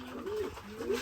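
Pet pigeons cooing while they eat, soft low rolling coos repeating close by with no talk.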